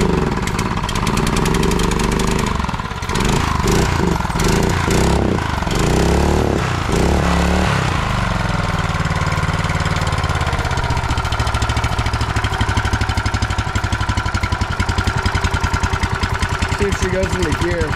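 A cheap outboard motor, running rough after stalling on throttle and in need of a carburetor clean, chugs loudly and steadily close by, then settles into an uneven idle while someone talks over it.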